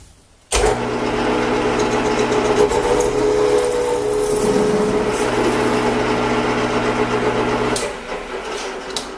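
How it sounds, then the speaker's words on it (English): A metal workpiece is faced off on a lathe, giving a steady, close machining hum with a faint whine. It runs without a break for about seven seconds, then stops, and no one speaks. "first thing I'm going to do is face off this piece very quickly"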